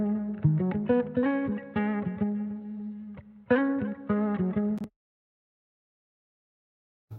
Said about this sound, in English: I actually found this guitar sample that really just fits the whole vibe.